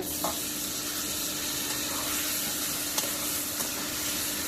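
Tomatoes frying in a pan, giving a steady, dense sizzle with a few soft clicks and knocks, close and continuous, with no voices.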